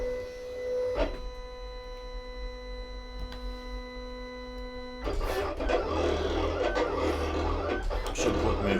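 Silhouette Cameo cutting machine running with a steady tonal motor hum and faint clicks, then a louder, busier whirring of carriage movement for the last few seconds, close and continuous, no talking.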